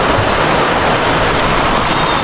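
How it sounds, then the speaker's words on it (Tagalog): Heavy rain from a typhoon falls as a steady, loud, broadband hiss with no pauses or voices. "umuulan na naman"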